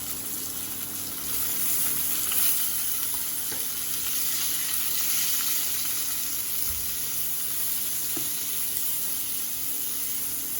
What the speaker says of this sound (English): Now I am adding the onion. Let it become golden brown.